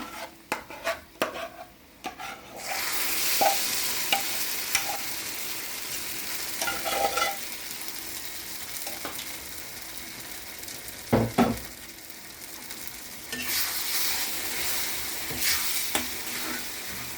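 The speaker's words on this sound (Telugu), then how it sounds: "పోపు వేగిపోయింది. పప్పు వేస్తున్నాను. పప్పు మెంతికూర." Cooked dal with fenugreek leaves goes into a hot oil tempering, giving a bright sizzle that rises and fades, with spoon stirring and clinks against the pot, plus a few sharp knocks along the way.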